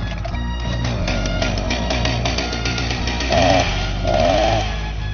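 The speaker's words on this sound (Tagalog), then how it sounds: "Umangil ang hawak nitong chainsaw." A handheld chainsaw runs with a steady, buzzing engine drone, then revs up twice in quick, louder surges near the end; no voices are heard.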